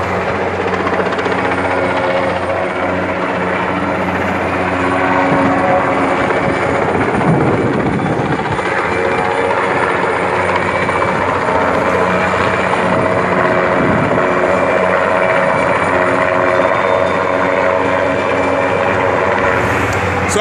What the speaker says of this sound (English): They switch off the helicopters so they can stay fueled.